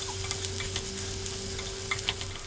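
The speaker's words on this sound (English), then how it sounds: "That's the rice frying there" Rice for a vegan pumpkin fried rice sizzling in a pan on high heat, a steady quiet crackle with occasional stirring scrapes, no voices.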